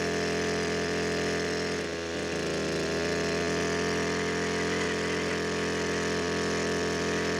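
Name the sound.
engine-powered drill boring holes in ground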